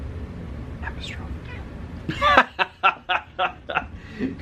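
A cat gives a couple of faint meows, followed by a burst of close, breathy chuckling in short rhythmic pulses.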